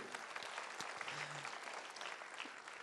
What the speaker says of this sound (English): a big round of applause to them too